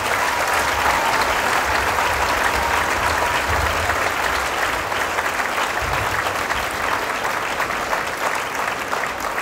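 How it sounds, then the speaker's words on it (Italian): A dance-school recital audience gives a performer, a bronze and gold medal winner, sustained loud applause, with dense steady clapping filling the hall from start to finish. "Accogliamo con un grande applauso Talisa Torretti!"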